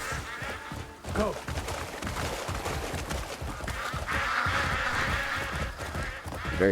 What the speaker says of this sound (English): Very loud ducks.